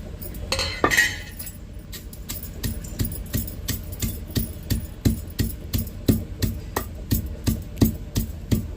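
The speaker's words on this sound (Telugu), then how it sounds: "నేనైతే రోట్లో అయితే దంచుతాను" Coriander seed powder pounded with a pestle in a stone mortar: steady, regular thuds roughly twice a second, close and fairly loud, with a brief clattery scrape near the start and no talking.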